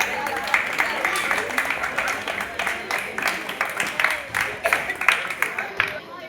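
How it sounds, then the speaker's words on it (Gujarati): An audience at a Navratri celebration claps in welcome, a steady patter of applause running throughout with some voices mixed in. "એક વખત આપણે બધાને તાળીઓથી વધાવશું"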